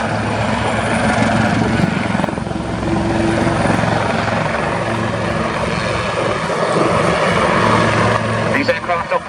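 A helicopter flies during an RAF Cosford air display, a loud, continuous rotor thrum and engine whine heard up close while an announcer talks over it.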